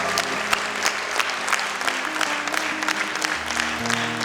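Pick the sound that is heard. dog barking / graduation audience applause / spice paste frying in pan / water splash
graduation audience applause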